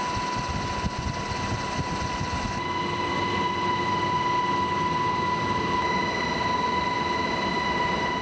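An Air Force rescue-unit military helicopter in flight gives a loud, steady engine and rotor drone with a constant whine, close and unbroken throughout, with no voices.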